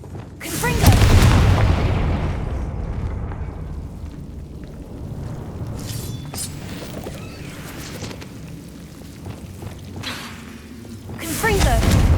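Repeated fiery spell blasts from the Confringo curse in the video game Hogwarts Legacy, loud rumbling booms with whooshing bursts, a big one early and another near the end, with voices speaking over the action.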